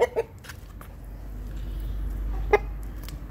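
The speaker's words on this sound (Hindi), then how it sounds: "ये देखे मुर्गा, बुढ़ा मुर्गा लेकर आया है।" An old rooster gives a few short, sharp clucks spaced irregularly, close and fairly loud, over a low steady background rumble.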